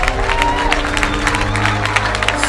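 A packed crowd at a large public gathering claps and cheers in a loud, rhythmic pulse over a steady low hum, the applause mixed with crowd noise throughout.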